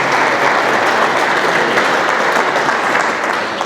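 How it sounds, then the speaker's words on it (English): Audience applause for event sponsors at a business strategy talk, a dense, even burst of many hands clapping that holds steady for several seconds. "But if we could have a round of applause,"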